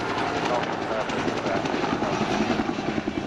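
A Bell UH-1 Iroquois Huey helicopter flying at an air show, its loud throbbing rotor chop and engine whine continuous and close, with someone talking over the noise throughout.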